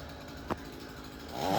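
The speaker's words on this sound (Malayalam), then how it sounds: "മരം വെട്ടാൻ തുടങ്ങിയിട്ടുണ്ട്." A chainsaw cuts down a coconut tree at a house, working from the top, heard faint and distant with a brief burst early on and the engine swelling louder at the end.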